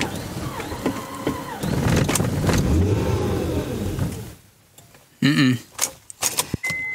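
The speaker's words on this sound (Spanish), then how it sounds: "el motor cuando da a prender suena horrible" 2005 Acura MDX engine that will not stay running, cranking and catching roughly: a close, uneven churning engine note that sputters and dies away, then brief clunks and rattles.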